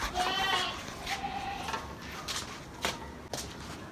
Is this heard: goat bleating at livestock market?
yes